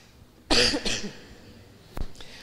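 A sharp, loud cough bursts out, followed by a second rough cough and then a shorter one, close to the listener.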